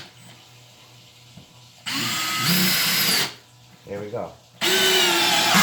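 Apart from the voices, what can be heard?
Makita LXT brushless drill driver running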